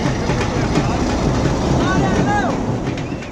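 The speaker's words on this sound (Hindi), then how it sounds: "ले दोस्तों इंजन दोबारा रवाना हो गया है" A railway locomotive on the Pind Dadan Khan to Malkwal line departs with a loud, continuous heavy-engine rumble and a brief rising tonal whine partway through, heard close up.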